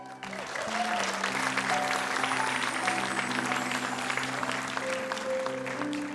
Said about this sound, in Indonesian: mari kita tepuk tangan sekeras-kerasnya untuk semua komedian kita hari ini.